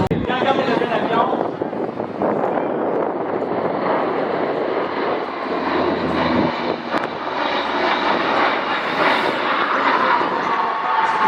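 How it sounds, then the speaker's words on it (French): A propeller airplane flies past at an air show, a steady loud engine drone with wind buffeting across the whole stretch, joined by crowd chatter and talk. "Regardez le bel avion."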